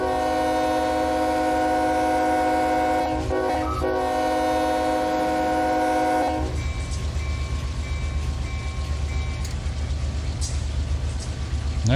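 Simulated BNSF freight trains in Run 8 Train Simulator: a loud, sustained multi-tone horn blares for about six seconds, then a heavy rumbling train roll continues underneath.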